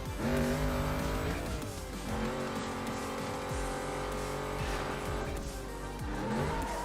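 Race car engines revving and shifting through a tight canyon race in Need for Speed Carbon, with repeated rising engine pitches and tire squeals, loud and continuous with no talk.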